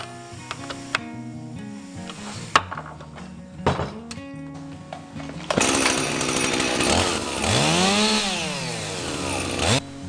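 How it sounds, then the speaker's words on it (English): A chainsaw starts up and runs after cleaning and adjustment: a few clunks and pull-start tugs, then a loud, close engine roar that revs up and down for several seconds. "So now your chainsaw is ready to go."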